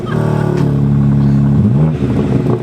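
A 2021 BMW G80 M3 Competition with a particulate filter, running close by: a deep, loud, steady engine drone with a brief dip and rise in pitch partway through, and no voices.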